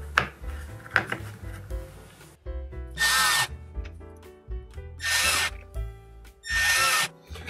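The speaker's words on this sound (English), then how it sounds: "This comes with these really short screws here, which just screw into this rubber pad" Short screws are driven into a rubber pad with a power drill while a Club Car DS golf cart headlight is installed, in three loud, sustained whirring bursts separated by clicks and handling clatter.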